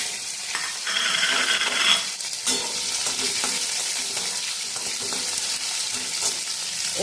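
Cherries frying in a little hot oil with dry chilli and five-spice, giving a loud, close, continuous sizzle broken by a few scrapes and clinks as they are moved around the pan, with no talk.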